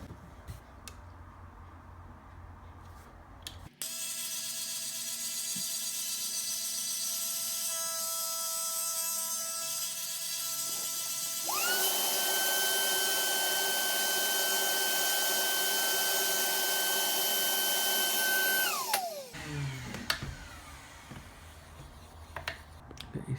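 A carbon fiber stabilizer plate for a Tamiya Mini 4WD car is cut with a rotary tool. A steady, close, high whine runs for about fifteen seconds, rises in pitch partway through, then stops abruptly.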